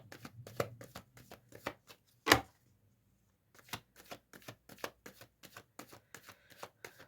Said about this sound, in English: Give me another 3 cards